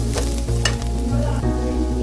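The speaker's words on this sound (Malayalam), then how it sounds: "നല്ലോണം വഴറ്റി വരണം." Onions sizzle steadily in a hot pan for mutton curry, close up, with a spatula scraping and stirring in a few regular strokes over the constant frying hiss.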